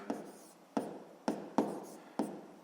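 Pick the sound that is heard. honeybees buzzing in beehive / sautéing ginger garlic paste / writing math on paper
writing math on paper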